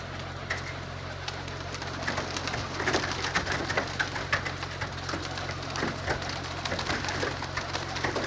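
Pigeons fly and coo on a morning outing, soft coos and wing flutters over a steady patter like light rain, with a low hum underneath and no talk.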